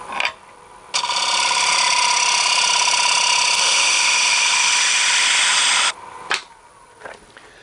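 Carbide-tip hollowing tool taking a slow, light cut in wood on a lathe, a loud steady grinding hiss lasting about five seconds, with brief knocks before and after.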